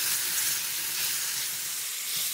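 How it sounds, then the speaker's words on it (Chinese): Diced tomatoes and diced dried tofu stir-fry in a hot pan, a steady, close, bright sizzle with faint stirring underneath and no voices. "翻炒至西红柿变软，倒入香干丁， 翻炒两三分钟"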